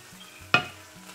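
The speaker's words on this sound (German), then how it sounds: "Und das braten wir jetzt krümelig und braun an." Minced meat fries crumbly and brown in a pan over medium heat, with a soft steady sizzle broken by one sharp scrape of stirring.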